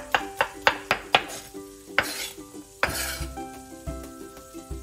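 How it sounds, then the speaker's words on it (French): Baby potatoes, 400 g, go into a pan of melted butter: a quick series of knocks as they drop in, then a rising close sizzle and a clang, with no talk. "On a chauffé une belle noix de beurre, 400 g de pommes grenailles, on sale et on couvre."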